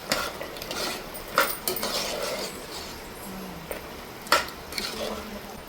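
Curry seasoned with salt and turmeric is stirred in a pot, with a bed of sizzling under repeated scraping strokes and a few sharp metal clanks of spoon against the pot.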